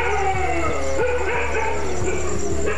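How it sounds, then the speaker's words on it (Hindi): Several village dogs bark in a rapid series of sharp, repeated barks with some yips and whines mixed in, close and loud over a steady background hum, with no talking. "कुत्ते शेरों को देखते ही भौंक भौंक कर पूरे गांव को खबरदार कर सकते हैं।"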